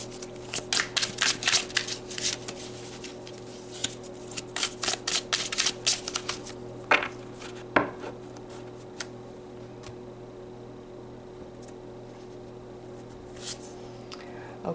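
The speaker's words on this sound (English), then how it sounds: "Let's pull some more cards." Tarot cards are riffled and shuffled in a rapid flurry of crisp flicks and taps, then a few slower single cards are pulled and laid down before it goes quiet.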